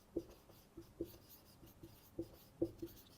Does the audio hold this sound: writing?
yes